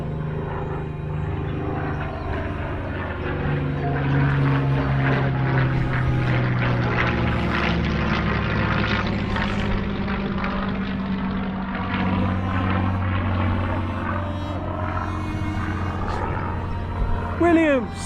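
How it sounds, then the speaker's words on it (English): Spitfire fighter plane passing overhead, a droning piston engine that rises and falls in pitch as it sweeps across, steady and fairly loud throughout, with voices chatting briefly underneath. "And there we have the Spitfire"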